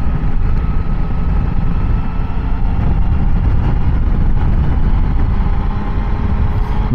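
A Triumph Tiger 800 motorcycle engine revs toward about 4000 rpm while riding two-up, a steady loud drone with broadband wind and road rumble blended underneath throughout.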